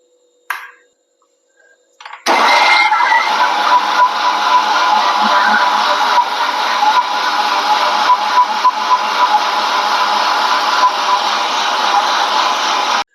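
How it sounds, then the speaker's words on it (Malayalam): After a couple of faint clicks, a mixer grinder blending pineapple juice starts up and runs steadily with a loud, continuous whirring drone until the end. "മിക്സിയുടെ ജാറിൽ വെച്ച് അടിച്ചെടുക്കാം"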